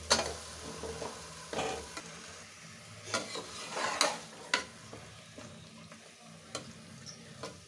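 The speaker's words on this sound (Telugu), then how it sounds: "అందులో ఈ చికెన్ వేసుకోవాలి" Chicken for pressure-cooker tandoori sizzles and fries in a pan while being stirred, with soft scraping strokes and a few sharper clicks of the spoon against the metal, close and moderately quiet, no talking.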